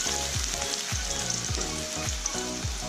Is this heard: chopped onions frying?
yes